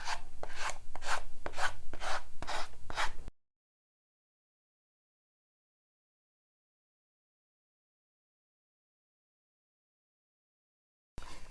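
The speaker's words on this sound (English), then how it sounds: "I just have a 220 grit sanding block that I have here" Rapid rhythmic rasping of a 220-grit sanding block scraping along paper edges, close and steady for a few seconds, then silence before a brief return.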